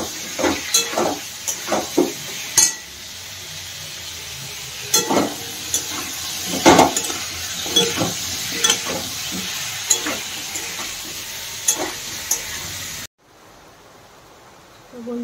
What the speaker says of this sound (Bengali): এটা দিয়ে আমি পটলটা ভেজে নেব আগে।